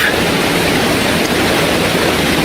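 A waterfall at Apiúna in Brazil sends up a steady, loud, broadband rush of falling water, unbroken and constant from start to finish with no voices.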